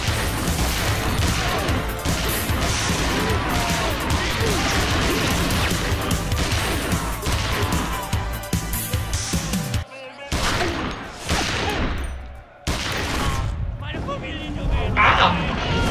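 Bursts of gunfire from a 1911 pistol in the Kung Fury movie crack amid crashes and chaotic action, loud and close, with people talking and shouting over the noise.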